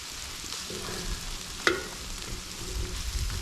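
Borscht with pepper stewing in a cauldron, a steady close simmer and sizzle that runs throughout, with one sharp click near the middle.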